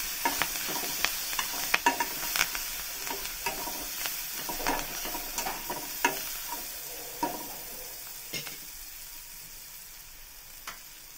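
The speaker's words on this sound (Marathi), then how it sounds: "आणि बारीक चिरलेला कांदा. छान मस्त असं परतवून घ्यायचं." Finely chopped onion with curry leaves sautéing in hot oil in a pan, a steady bright sizzle broken by irregular scraping taps of a spatula stirring, close and fairly loud, no talk.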